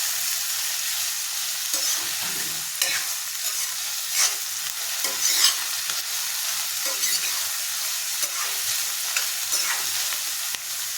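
Sliced onions for a drumstick salt fish curry sizzle steadily in a pan over medium flame, with intermittent scraping stirs cutting through the continuous frying hiss; no talk.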